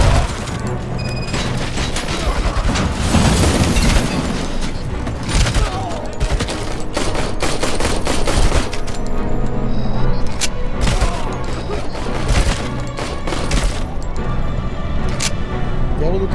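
Heavy machine gun fire in the shooter game Robocop Rogue City, rapid bursts mixed with booms and crashes of combat, loud and continuous, with a voice talking over the action at times.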